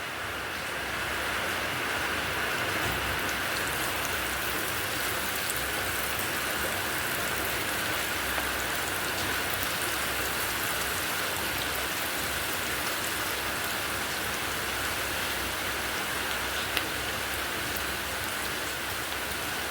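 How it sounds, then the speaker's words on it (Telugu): Bitter gourd pieces fry in hot oil in a kadai, giving a dense, even, rain-like crackle and hiss that holds steady at close range for the whole stretch, with no voices. "ఈ ఆయిల్లో మనం ఇప్పుడు కాకరకాయ ముక్కలు వేసుకుందాం."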